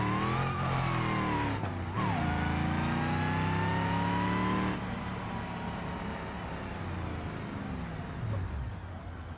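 A truck engine in BeamNG.drive revving and shifting, rising and falling tonal drone up close, then easing to a lower rumble, no talk.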